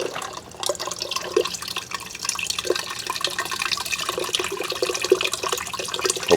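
Pressurized water softener tank being depressurized during a resin replacement, water hissing and spattering out in a steady, close rush with scattered drips for several seconds.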